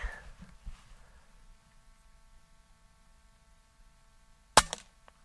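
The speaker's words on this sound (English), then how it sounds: "I am shooting over a Chrony, so hopefully we'll get some numbers too." A single sharp crack from a DAR .25 Gen 3 air rifle rings out near the end, following a quiet stretch with faint low handling noise and a hum.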